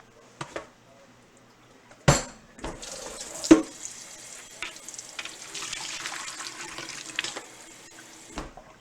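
Water poured from a cooking pot into a kitchen sink, a splashing rush that runs for several seconds, broken by sharp metallic clanks of the pot against the basin.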